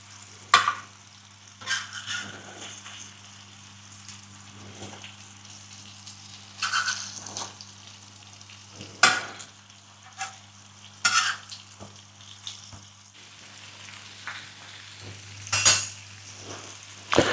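Soft mutton galawati kebabs frying in desi ghee in a pan, a low steady sizzle broken by repeated clinks and scrapes of a metal spatula against the pan, close by with no talk.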